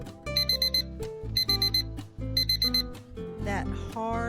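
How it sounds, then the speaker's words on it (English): An alarm clock rings in repeated bursts of bright electronic beeping, loud and close, with short pauses between groups and a melodic chime near the end. "If you set an alarm on your phone or clock that sounds like"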